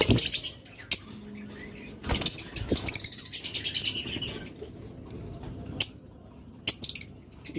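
Caged pet birds, including budgerigars, cockatiels, lovebirds and green opaline birds, at a bird seller's shop make sharp high chirps and chattering calls in bursts, with occasional wing flaps and sudden loud cage noises.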